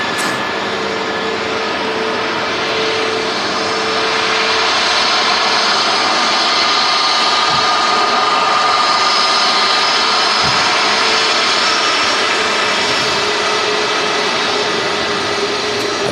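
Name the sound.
Airbus A320neo jet arriving from Dalaman, Turkey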